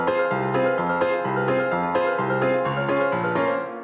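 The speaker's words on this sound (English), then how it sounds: "So the piano sounds like this now." A ragtime-inspired piano line for an electro swing track plays alone, a bouncy pattern of alternating low bass notes and upper chords in steady, even rhythm.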